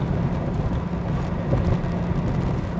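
Jaguar XJS V12 coupe cruising along a very bumpy, narrow two-lane road, giving a steady low engine drone and road rumble from inside the cabin with no talking.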